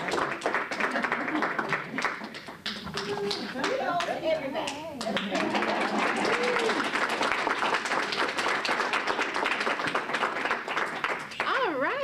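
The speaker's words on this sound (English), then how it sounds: "Give yourselves another big round of applause." A room of seniors at a civic academy graduation breaks into clapping, brisk and sustained over twelve seconds, with voices and a few shouts rising through the applause.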